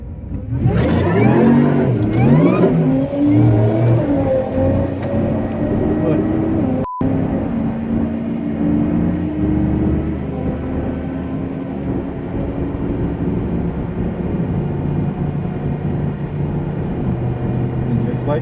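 A 2014 Nissan GT-R running E85 launches in a drag race, its engine rising loudly through the gears, then falling to a lower, steadier drone as the car moves away, with people talking over it.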